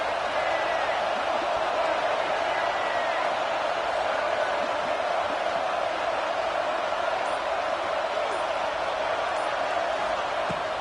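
A stadium crowd in the video game NCAA 26, with UCLA playing, roars in a steady, loud, unbroken wash of noise, and a commentator talks over it.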